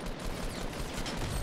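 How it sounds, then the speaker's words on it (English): Gunfire in the video game Fortnite: Battle Royale comes as rapid, dense, overlapping bursts of shots. It is quiet and distant-sounding, running continuously through the short stretch. "Yep, I hear gunfire, boys."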